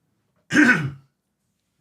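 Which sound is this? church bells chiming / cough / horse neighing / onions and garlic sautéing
cough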